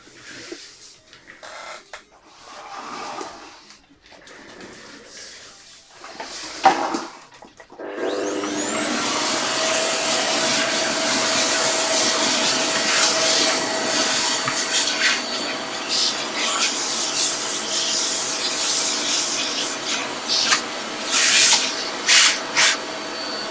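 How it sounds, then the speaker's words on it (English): A vacuum cleaner switches on after some brief handling noises and then runs loud and steady with a constant whine. Occasional bumps and scrapes are heard as it is moved around. "I should get my vacuum cleaner for a second here"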